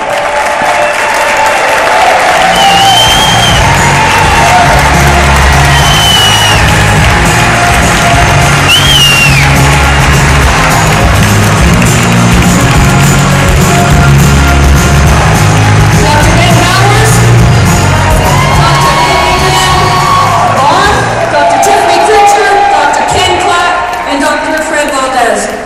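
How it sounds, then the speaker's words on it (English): A large audience applauds and cheers loudly to welcome doctors onto a stage, with sustained dense clapping, whoops and shouts continuing throughout without a break. "Stand up and give them a big round of applause"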